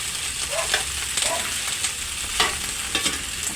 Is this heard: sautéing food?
yes